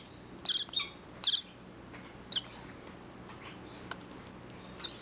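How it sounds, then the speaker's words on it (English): A baby Bourke's parakeet gives several short, high chirps in scattered bursts, close and fairly soft, against a quiet indoor background. "You're a sweet little bird."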